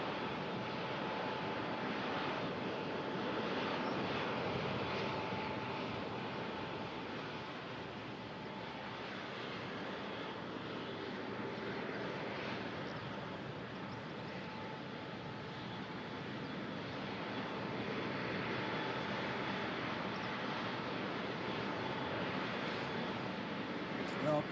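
An Emirates airliner arrives at Christchurch Airport in strong wind, its engines a broad, distant roar mixed with gusty wind buffeting the microphone, steady and sustained throughout.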